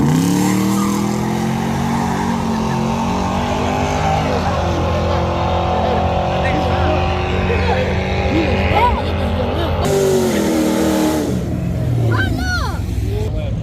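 Race cars, a Camaro among them, run laps on a race track, their engines droning steadily and rising and falling as they pass, with a tire squeal near the end and people talking over the noise.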